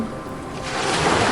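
Ocean waves wash in steadily, a broad continuous rush of surf that swells slightly louder toward the end, heard alone and fairly close.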